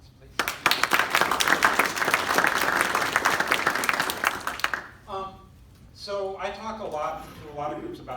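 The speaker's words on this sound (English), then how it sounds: "So a round of applause, please." Audience applause at a Rotary Foundation event, a dense burst of many hands clapping that fills the room for several seconds, then stops abruptly as a voice begins speaking.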